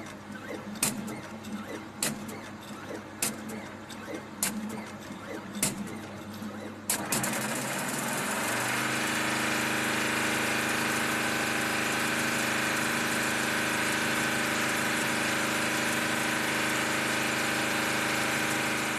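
An electronically controlled narrow fabric loom with unlimited repeat lengths ticks with sharp regular clicks, then starts up into a loud steady mechanical drone with a constant humming tone that runs on evenly, close by.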